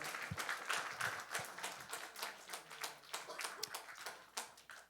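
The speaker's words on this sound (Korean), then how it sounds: "다시 한번 우리 플래너십에게 너무나 수고했다고 박수하겠습니다" A church congregation claps together during a Korean service in a dense, steady patter of many hands that rises and falls slightly, heard from a modest distance.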